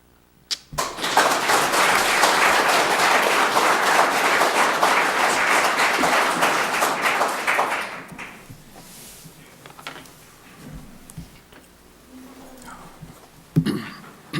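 A room of attendees at a Bennington Select Board meeting breaks into sustained applause that swells quickly, holds steady for about seven seconds, then fades into quiet room noise with scattered small knocks.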